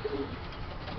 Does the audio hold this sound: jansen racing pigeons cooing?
yes